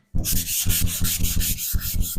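Dry sanding by hand, close and loud, with steady rhythmic back-and-forth rubbing strokes of roughly even pace that run continuously after a short silent start.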